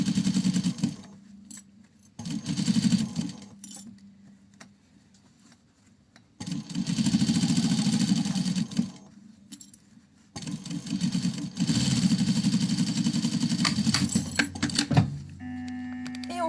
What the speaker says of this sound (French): Et on vient coudre à 1 cm.